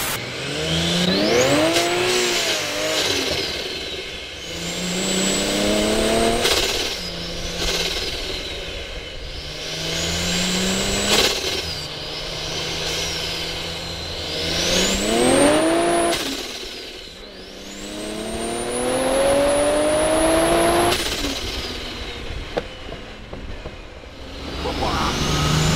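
A race-spec BMW E46 M3 with a swapped Toyota 2JZ engine revs hard and changes gears repeatedly, rising and falling in pitch as it accelerates nearby, loud and raw throughout.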